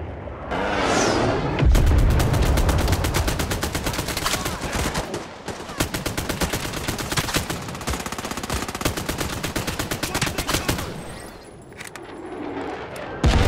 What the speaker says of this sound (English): Mark them for an airstrike now.